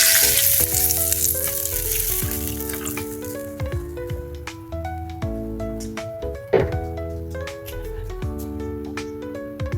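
Water poured into a pan of sautéing aromatics and citrus leaves hisses and sizzles loudly and steadily, with a continuous tonal hum underneath and a brief clatter midway.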